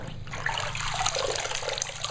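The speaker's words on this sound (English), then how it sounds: "The water just keeps running blue every time" Water runs steadily from a tap into a sink, a continuous close splashing and hiss with no talk over it.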